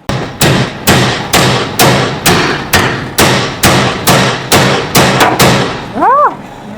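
About a dozen heavy, ringing metal hammer blows land in a steady rhythm on front suspension parts of a 1967 Plymouth Barracuda, each one sharp and loud, followed by a brief rising vocal exclamation.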